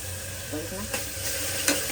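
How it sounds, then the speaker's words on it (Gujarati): Kashmiri chili powder and spices stirred in a hot pan for a Gujarati corn curry, a close steady sizzle with a few scraping strokes and light clinks of the spoon. "હવે હલાવી દઈશું આપણે."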